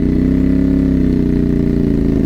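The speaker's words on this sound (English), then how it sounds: "I love the sound of that 270-degree parallel twin." CFMOTO 450MT adventure motorcycle with a 270-degree parallel twin engine, loud and close, a steady throbbing idle with an even pulsing rhythm and no talk over it.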